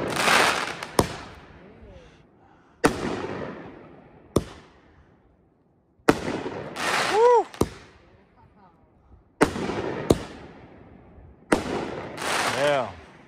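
Repeated loud shots from an American Shadow 500-gram fireworks cake in a ragged sequence, each sharp bang followed by crackling and whistling tails, with brief pauses between volleys.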